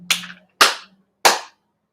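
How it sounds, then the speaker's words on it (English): Three slow, deliberate claps, evenly spaced and close, crisp and isolated against silence, a sarcastic golf clap. "Everyone, golf clap."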